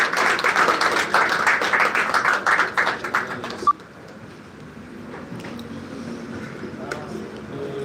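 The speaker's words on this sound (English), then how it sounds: "Please, a round of applause for her she comes." An audience at a football law moot court event applauds in dense, steady clapping for about three and a half seconds, ending on one sharp clap before the room drops to a quiet murmur.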